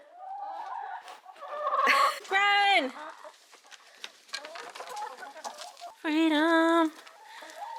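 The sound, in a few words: chickens clucking as they are let out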